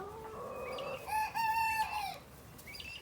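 A rooster crows once, loud and close, its drawn-out harmonic call rising then trailing off, with faint clucking before and after.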